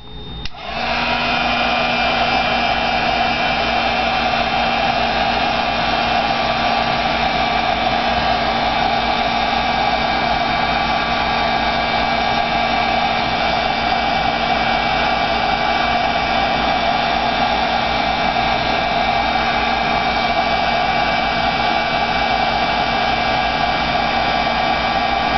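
A hair dryer blows steadily on a painted surface, a loud, continuous whooshing hum with a constant pitch that runs unbroken for the whole stretch, no voices over it.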